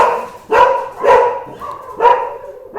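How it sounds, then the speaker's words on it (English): A dog barks three or four times in the background, each bark loud and well spaced, alone with no talk over it. "my dog's going out and chasing something there, but in the background"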